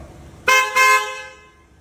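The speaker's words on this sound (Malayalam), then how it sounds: "നമ്മൾ ഹെല്ലേൻ്റെ ഹോൺ കയറ്റി എന്ന് പറയായിരുന്നു അപ്പൊ ജസ്റ്റ് ഒന്ന് ഓൺ അടിച്ച് കേൾപ്പിക്കാം" Two quick, loud blasts of an aftermarket horn on a Suzuki Baleno close by, the second slightly longer, with a brief ringing tail as it fades.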